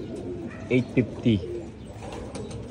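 Racing pigeons arriving at a home loft from the Urdaneta release point give three soft, throaty coos in quick succession over a light background murmur, with someone speaking nearby.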